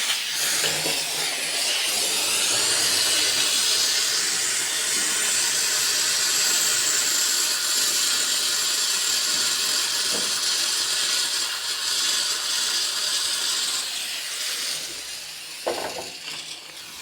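A pressure cooker of dal on the stove lets out a loud, continuous steam hiss that holds steady for most of its length, then eases off near the end with a few small knocks.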